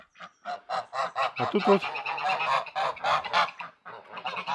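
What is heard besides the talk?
geese and ducks honking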